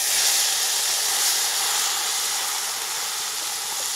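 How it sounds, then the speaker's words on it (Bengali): Marinated chicken for dopeyaja hitting a hot pan after fried kasuri methi, a loud, steady hissing sizzle that continues evenly for several seconds with no voices. "আমার ম্যারিনেট করা চিকেনটা এবার দিয়ে দেবো।"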